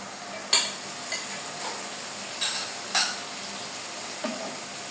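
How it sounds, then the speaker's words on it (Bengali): Yogurt-marinated chicken sizzles steadily in a karahi, with several sharp scraping stirs and clinks of a spoon against the pan standing out above the constant frying hiss. "এই চিকেনটাকে এই কড়াইতে এখন ঢেলে দেব।"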